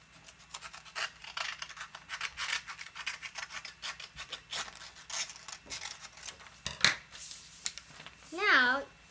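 Scissors snip through paper for a handmade pencil holder, a quick run of crisp rhythmic cuts up close, followed by a short whistle-like sliding sound near the end.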